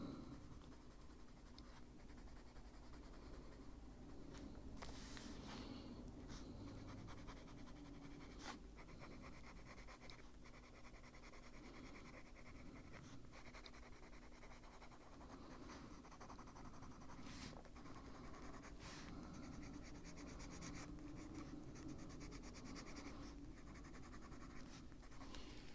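A coloured pencil scratching across a paper fairy colouring page, continuous close rasping strokes with brief pauses between them, no talk.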